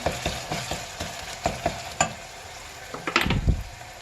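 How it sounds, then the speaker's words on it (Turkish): Pepper paste sizzling softly in a pan, with a utensil stirring and scraping in scattered taps and a brief louder clatter near the end. "Bir tatlı kaşığı kadar salça ekledim. Biber salçası. Hafif onunla da kavuracağım."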